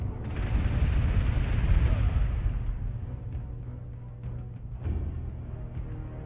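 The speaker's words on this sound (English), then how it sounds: "I'm gonna keep shooting you in the face." Dense, continuous rumbling gunfire from the Warhammer 40k: Gladius strategy game fills the clip, loud at first and thinning slightly toward the end.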